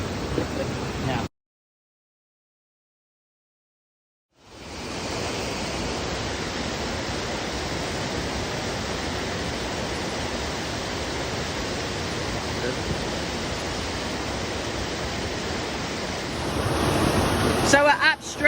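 Flowing stream water while gold detecting, a steady broadband rush heard close and continuous after a brief silent gap, with some wind buffeting the microphone toward the end.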